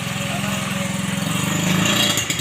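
A Yamaha Vixion motorcycle engine idling close by, a steady rapid putter with a slightly uneven pulse, with voices speaking over it.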